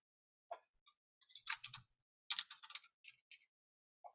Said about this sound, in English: hopefully you can't hear my typing too loudly in the background